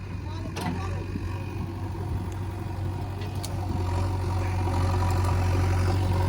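Diesel engines of a tractor and a JCB backhoe loader idling and revving together outdoors while the backhoe pulls the tractor out in a farm field and itself gets stuck, a steady low rumble with rising intensity, with people talking loudly over it.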